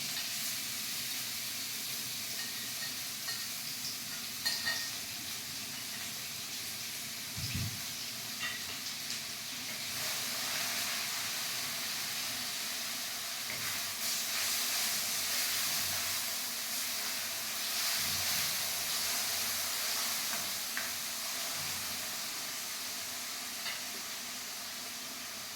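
Chopped ginger, garlic, shallots and onion sizzle steadily in coconut oil for a raw banana and beef roast, a continuous broadband hiss that swells louder midway, with a single low knock early on and no talking.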